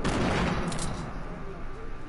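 Rapid SMG fire crackles continuously in a video game, a dense burst of shots close and loud, with players talking over it.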